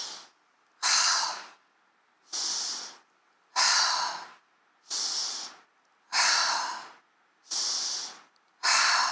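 Slow rhythmic breathing during seated chair yoga, seven long breaths of even length, each a close, airy rush separated by brief silences, with no talk over them.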